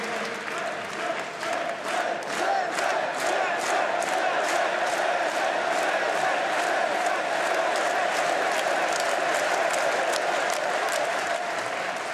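A large audience at a French political campaign rally applauds continuously, dense rapid clapping from a big hall crowd with scattered shouts and cheers mixed in, loud and sustained throughout.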